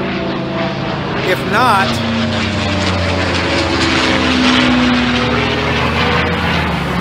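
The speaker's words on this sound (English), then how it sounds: "Looked like a World War II era plane was landing at Van Nuys Airport" A World War II era propeller plane lands at Van Nuys Airport, its engine drone loud and steady throughout while a person briefly talks over it.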